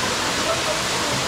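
A river swollen by the previous night's rain rushes past on a hiking trail, a dense, steady roar of water filling the whole clip, loud and close.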